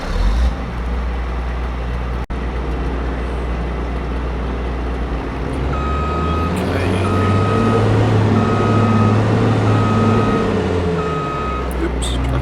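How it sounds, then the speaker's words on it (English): In Farming Simulator 22, a harvester starts up: a loud, steady engine drone with rising low rumble, repeated reversing beeps chiming over it, and a voice speaking throughout. "Go grab this harvester. Get it started up."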